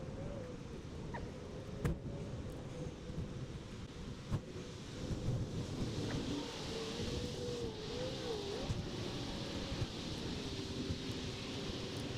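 Steady roar of highway traffic on I-66 beside a Metro line, heard from a trail behind a concrete barrier, a constant broadband rush with occasional passing swells, fairly distant and even.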